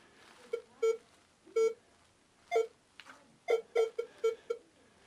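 A metal detector sweeping an attic gives short electronic beeps, some single and some in quick clusters, about ten tones in irregular groups. They are clear and close, with no speech over them.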